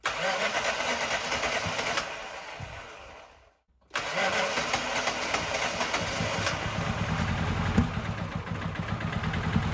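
A ZAZ Tavria car's engine cranks and sputters after an oil change with diesel in place of oil, goes briefly silent, then catches and idles with a steady, fairly loud rumble.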